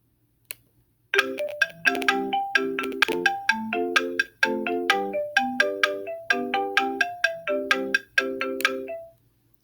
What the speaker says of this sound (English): This is what the block chord accompaniment is going to sound like.